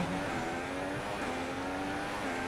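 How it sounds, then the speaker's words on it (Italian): Formula One car engine failing during a race at Sakhir in the F1 2016 racing game, a steady loud mechanical drone with a wavering tonal whine, continuous and without talk. "si rompe il motore Gigi"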